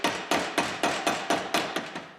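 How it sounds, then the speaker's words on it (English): Ball peen hammer striking metal while finishing a part for a Model T Ford transmission build, eight or nine sharp, evenly spaced ringing blows in a steady rhythm, close and loud with nothing else heard. "I like to take a ball peen hammer"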